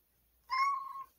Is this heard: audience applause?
no